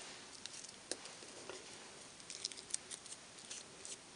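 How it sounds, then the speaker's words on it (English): Scissors make small snipping cuts in card stock for a feather card, giving faint, close, irregular clicks and snips scattered over a quiet background hiss. "just take little tiny snips out of this"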